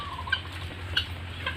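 Guinea fowl on a farm give sharp, repeated calls, three or four short bursts spaced evenly over a steady low hum, fairly loud and fairly near, with no talking.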